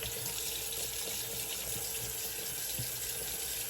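Steady close running water from a tap while shaving lather is rinsed off, a continuous even gush with no talk.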